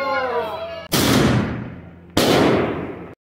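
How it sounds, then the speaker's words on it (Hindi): Two loud, sharp fireworks explosions at a Ravan effigy burning, a little over a second apart, each ringing out and fading, following a brief bit of voice. "आतिशबाजी शुरू हो गई है।"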